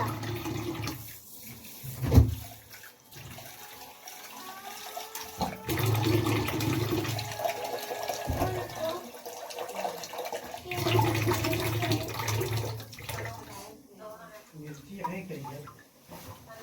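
Rice is washed in water at a kitchen sink, with running tap water, splashing and swishing in bursts, while people talk throughout.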